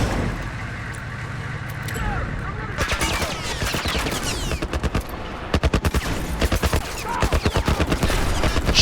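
Rapid gunfire in The Last of Us video game as a gas tank is shot: dense bursts of loud automatic shots, with brief gaps between volleys, over a steady background rumble.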